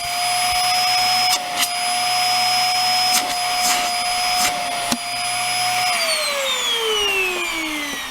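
Hoover Air Steerable vacuum cleaner running with a steady high-pitched whine and airflow hiss, a few brief bumps and clunks, then the motor pitch falls as it winds down.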